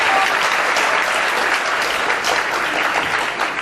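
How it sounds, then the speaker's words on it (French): Audience applause fills a quiz show final of the Génie en herbe 2016 secondary-school competition, a steady, dense clapping that runs loud and unbroken throughout. "On les applaudit, s'il vous plaît, le lycée scientifique de Yamoussoukro,"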